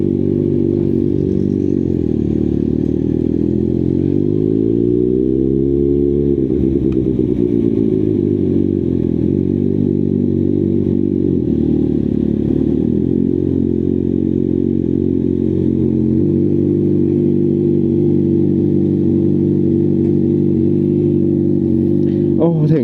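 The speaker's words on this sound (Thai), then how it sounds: "ฟังเสียงท่อเอาเรื่องอยู่นะ" A motorcycle engine and exhaust rumble loudly and close up, with a deep, continuous drone that swings up and down in pitch as the throttle is revved, then settles into a steadier idle.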